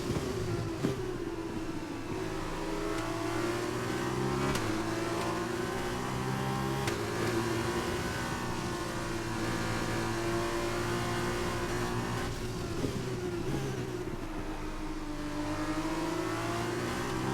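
An F2 race car in the F1 2021 video game at Bahrain, engine revving hard through the gears with sustained high-pitched whine, brief dips at upshifts, continuous and close throughout.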